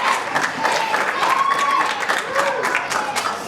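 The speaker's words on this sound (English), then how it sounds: "And the crowd are certainly loving that." A large wrestling event crowd roars and cheers continuously, with applause and whistles filling the arena while a commentator talks over it.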